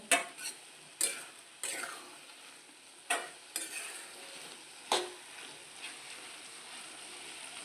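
Masala for a paneer cheese dosa stirred and sizzling in a pan, with a spatula scraping in repeated sharp strokes every second or so over a soft frying hiss, close and alone.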